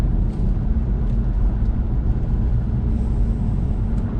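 A constant deep rumble of road noise comes through the cabin of a BMW 520d M Sport driving over an uneven surface, continuous and fairly loud with no voices.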